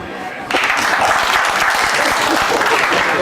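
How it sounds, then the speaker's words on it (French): Sudden burst of audience applause at a French stand-up comedy show, starting after a brief quiet moment and continuing loud and steady, with faint voices mixed in. "Par applaudissement"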